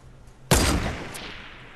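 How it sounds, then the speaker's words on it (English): A single loud gunshot in a video game firefight cracks out suddenly and decays over about a second, with a faint second report trailing behind. "Where are they shooting at me from?"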